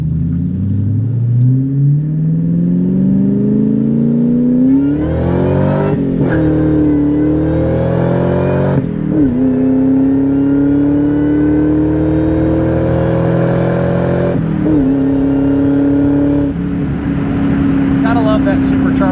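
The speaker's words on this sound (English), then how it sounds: "That supercharger whine." Supercharged 2002 Ford Saleen with a 4.6 V8 accelerating hard on a test drive, the supercharger whine rising in pitch through several gear pulls with brief drops at each shift, loud and close.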